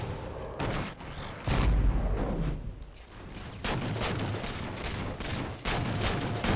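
Rapid bursts of gunfire ring out in a shooter video game battle, with repeated volleys of shots, short pauses between bursts, and a deeper thump partway through.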